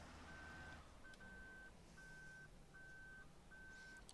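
A Fendt 939 Vario tractor backing up in Farming Simulator 2013 sounds a steady reversing beep, six evenly spaced tones over a low continuous engine drone, with no talking.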